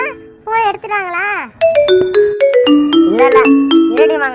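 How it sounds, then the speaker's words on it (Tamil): A phone ringtone plays during a call as a rising, melodic run of bright electronic tones repeating steadily, loud and close, preceded by a voice. "ரிங்கு போகுது"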